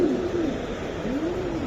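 Racing pigeons coo close by, a pair of soft rolling, rising-and-falling calls repeating over a low, steady background murmur.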